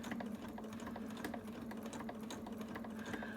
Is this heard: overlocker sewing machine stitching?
yes